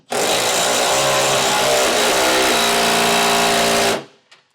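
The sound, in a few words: tightening trailer hitch bolts with a 19mm socket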